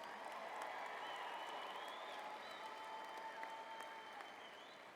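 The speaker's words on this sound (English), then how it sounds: "Let's have another round of applause for Seminole Sound." A large audience at a graduation ceremony claps in a steady, sustained round that stays dense and even before slowly easing off, heard from some distance in a big hall.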